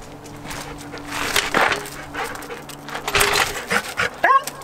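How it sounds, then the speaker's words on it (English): A female dog whimpers and whines in short, anxious bursts near a car jack in a home garage during car work, with breathy panting and a brief high whine near the end; no talk. "my dog freaks over the jack"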